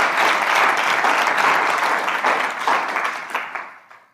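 Full audience applause at a live event in San Diego, loud dense clapping that holds steady and then tapers away over the last second.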